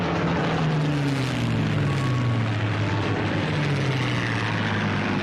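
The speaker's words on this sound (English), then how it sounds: "Overhead, thousands of Allied planes roared." Loud, steady drone of propeller aircraft roaring overhead, a sound effect with engine pitch sliding slowly downward as the planes pass, continuous and close throughout.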